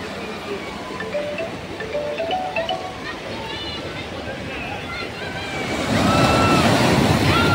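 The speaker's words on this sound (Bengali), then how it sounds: "আপনারা দেখতেই পাচ্ছেন একদম সমুদ্রের ধারে এসে গেছি।" Sea waves washing onto the beach at New Digha: continuous surf hiss and wash with wind noise, building louder toward the end, while someone talks over it.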